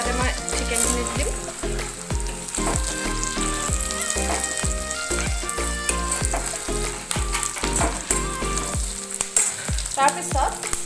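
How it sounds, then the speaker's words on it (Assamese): Chicken for Chicken 65 sizzles and fries in a pan with half-cooked onions, a steady crackling hiss running throughout while rhythmic background music plays. "ইয়াতে মই চিকেনখিনি দিম"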